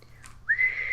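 A person imitates a high-pitched whistle with a short rising note that then holds steady, clear and close, with no talking over it.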